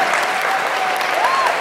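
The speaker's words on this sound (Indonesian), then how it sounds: "boleh tepuk tangan?" A crowd at a film meet-and-greet claps loudly for a producer, a dense, even wash of applause with a faint voice or whistle-like tone rising briefly over it.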